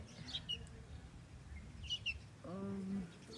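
Young sparrows fledging in a nest give a few brief high chirps in scattered bursts over a quiet background, with a short low voice-like sound near the end.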